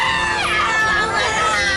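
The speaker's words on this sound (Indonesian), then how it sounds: "Ibu korban berteriak-teriak tak terima anaknya menjadi korban kecelakaan tunggal" At a road crash scene on Jalan Pasar Minggu, a victim's mother screams and wails in anguish, a loud, continuous, strained cry that fills the whole moment without pause.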